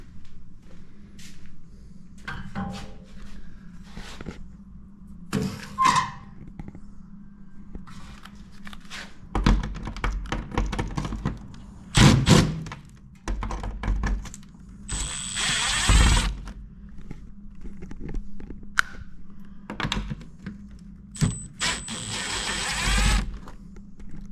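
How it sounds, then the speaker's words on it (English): An impact driver backs screws out of a vintage long-bed camper shell, its loud rattling hammer bursts coming in several separate runs of a second or two, with quieter handling clatter and shuffling between them and no talking. "impact driver. Start pulling screws."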